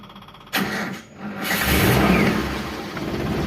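A Daihatsu Zebra with a weak battery, left unused and recharged for about thirteen minutes, cranks briefly, catches, and settles into a loud, steady idle close by.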